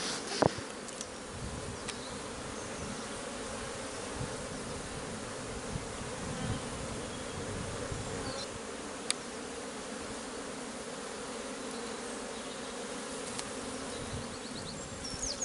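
Honeybees buzz at an open five-box hive during a frame inspection, a continuous low droning swarm hum close by with occasional faint clicks, no voices.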